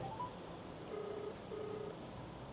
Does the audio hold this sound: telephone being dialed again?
yes